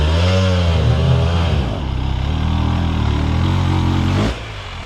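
A rebuilt 2017 KTM 300 dirt bike engine revs loudly up close, its pitch rising and falling through several throttle blips before it drops away sharply near the end.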